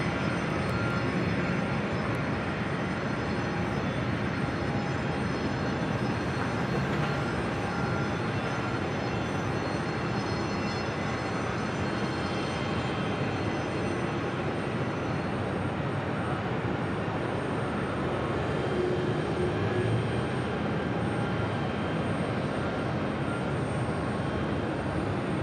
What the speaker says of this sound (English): Next arrival on 4 right, Delta Airlines Flight 63, coming in from London Gatwick in the 767-300ER